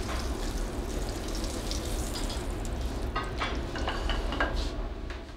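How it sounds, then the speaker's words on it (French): Apple and celery discs cooking in a dry frying pan without fat: a steady, close sizzle and hiss with light stirring scrapes, with no talk. "on se sert de la poêle dans laquelle on a fait cuire les disques de pommes et de céleri"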